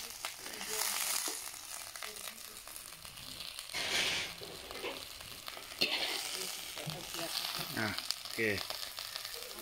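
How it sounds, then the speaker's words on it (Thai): June beetles dry-roasting in a pan give a steady crackling sizzle with stirring and scraping strokes, while someone speaks briefly over it. "นี่คือการคั่วแมงกินูน"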